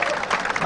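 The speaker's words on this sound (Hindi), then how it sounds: "ठोको ठोको ताली ठोको" Crowd at a Navjot Singh Sidhu election rally in Shahdol, Madhya Pradesh, clapping in a dense, steady burst across the short moment, with a voice blending into the noise.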